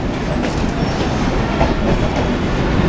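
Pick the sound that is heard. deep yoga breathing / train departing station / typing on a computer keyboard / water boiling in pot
train departing station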